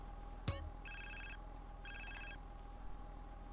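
Phone ringing in Grand Theft Auto: San Andreas on PS5, two bursts of a bright electronic trill over a steady low game hum, with a short sharp click near the start.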